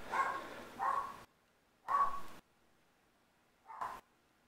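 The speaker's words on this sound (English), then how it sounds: "And dogs are barking." Dogs barking in the video game Skyrim, three separate bursts of barking spaced apart with quiet gaps between them, fairly faint and with no talk over them.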